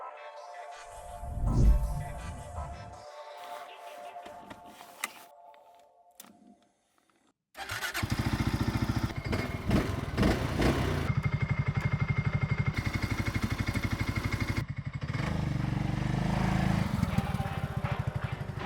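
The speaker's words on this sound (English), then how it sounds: "But we can show how the quad works." A Segway Snarler quad ATV engine cranks and catches, then idles and revs at a steady, loud, buzzing drone close by after some faint handling noises.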